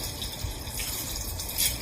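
Steady running tap water rinses dishes at a kitchen sink, a continuous close hiss and splash with no talking.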